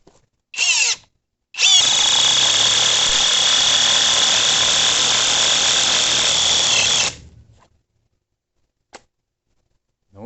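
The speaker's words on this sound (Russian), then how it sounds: "для начала вкрутим вот такой вот винтик, сотка, вот в данное дерево" A cordless ENZT 600 Nm impact wrench drives a screw into wood: a short burst, then a sustained loud hammering whir for about five seconds that stops abruptly, followed by a faint click.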